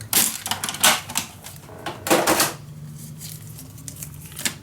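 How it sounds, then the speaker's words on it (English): Scoring paper along a cut edge with a tool for a scrapbook mini album, a run of quick clicky taps and scrapes close up, then a quieter stretch with faint rustling. "So I'm gonna score right along that cut edge."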